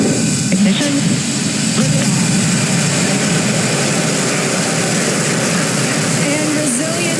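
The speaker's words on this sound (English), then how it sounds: "Falcon 9 is configured for flight. 10, 9, 8, 7, 6, 5, 4, 3, 2, 1, 0. Ignition." A Falcon 9 rocket's engines ignite at launch on the Crew-1 mission carrying four astronauts to the ISS, producing a loud, continuous, heavy roar and rumble that holds steady throughout.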